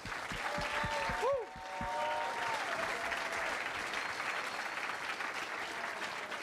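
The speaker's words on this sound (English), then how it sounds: "Clap for these guys." A church-style gathering claps for four people who shared their stories, steady broad applause throughout, with a brief sustained tone and faint voices early on beneath the clapping.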